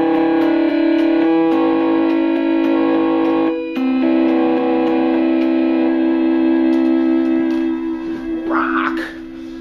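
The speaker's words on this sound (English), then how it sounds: "Distortion." A distorted electronic guitar tone from a 1983 Casio DG-10 digital guitar sustains in steady, buzzing chords, loud and alone, shifting pitch a couple of times before a brief flurry of notes near the end.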